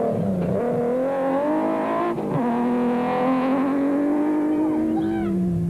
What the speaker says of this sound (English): Francina driving, arrive on the scene in third place in the immaculately prepared Porsche-powered V Motors Chenoweth